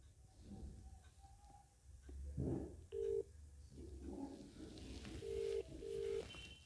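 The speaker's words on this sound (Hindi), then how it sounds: "ये नंबर डायल कर रहा हूँ 22," A series of short telephone keypad tones beep one after another, separated by small pauses and faint handling noise.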